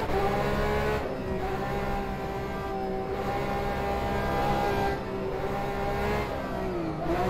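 A Porsche 911 RSR GTE race car at Le Mans in the rFactor 2 racing sim holds a steady, loud engine drone throughout, with gear-shift dips and a rising pitch near the end.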